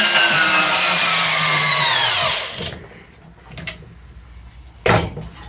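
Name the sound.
cheap Amazon cordless drill driving into wood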